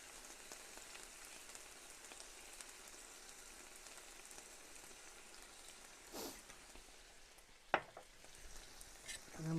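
Sweet chili sauce simmering on a flat-top griddle during sweet and sour chicken prep, a steady soft hiss and sizzle with brief louder crackles and a sharp clatter near the end.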